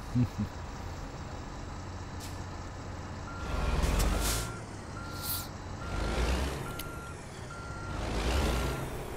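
In American Truck Simulator, a heavy haul truck backs up with a steady, evenly spaced reversing beep over a low engine idle, while sharp air brake hisses burst out several times.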